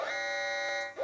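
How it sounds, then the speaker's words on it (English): A patient bed alarm in a hospital gives a steady electronic buzz with a bright, even tone, held for about a second before cutting off. "automatically an alarm is triggered"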